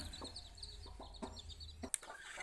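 A naked neck chicken gives a few short, soft clucks close by over a low background hum, with a faint higher bird chirp and one sharp brief click near the end.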